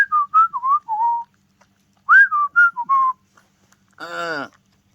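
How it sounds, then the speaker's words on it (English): A person whistles alone in two short melodic phrases of bright, clear notes, followed by a brief buzzy harmonic tone, in an otherwise quiet room. "I've been whistling a lot as of late"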